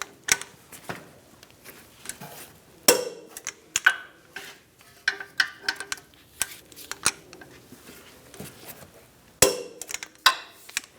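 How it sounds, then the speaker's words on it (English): Torque wrench tightening bolts on a 2007-2014 Cadillac Escalade brake assembly, with sharp metallic clicks and clinks in an irregular rhythm, close and fairly crisp, over quiet workshop background. "I'm going to torque these bolts to 122 foot-pounds."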